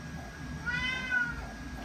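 A cat meowing indoors, two soft drawn-out meows close by over a quiet room hum.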